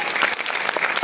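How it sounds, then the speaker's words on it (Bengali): Audience clapping at a Barishal corporate event, applauding a DXN factory in Bangladesh, heard as a short, loud burst of dense, continuous handclaps from a close crowd. "ফ্যাক্টরির জন্য একটা করতালি হয়ে যাবে।"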